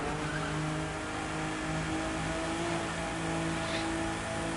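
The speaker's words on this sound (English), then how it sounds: "Jumping straight into New York and in a street race M2" A BMW M2 street race car in a video game drives through New York with a constant loud engine drone and tyre noise, sustained at high speed without pause.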